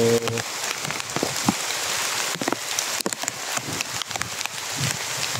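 Heavy rain pours steadily onto a surface nearby, a dense hiss of drops with scattered louder splats and patters.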